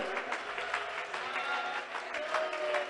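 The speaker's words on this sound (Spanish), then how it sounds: "Oh, ese aplauso fuerte para el Rey de Gloria." Applause from a church congregation during a worship service, a steady dense wash of clapping filling the room with no clear gaps.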